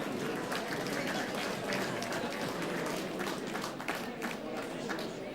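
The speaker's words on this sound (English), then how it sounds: "Big round of applause for Puma." A round of applause at a school's 50th anniversary night, a steady wash of many hands clapping from a room full of people, fairly soft and even throughout with no clear voice above it.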